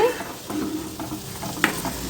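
Moong dal frying in a pan with potato and beans, a continuous close sizzle broken by the scrape and clack of a stirring spoon, one sharper knock near the end, with no talking.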